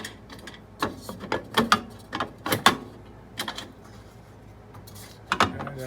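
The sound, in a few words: adjusting the fence on a WEN 6559 jointer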